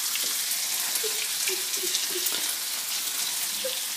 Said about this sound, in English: Now I'm going to fry these onions.